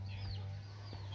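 Chickens in a Bhutanese village setting near Gelephu, a faint short cluck or two over a low steady hum, distant and brief.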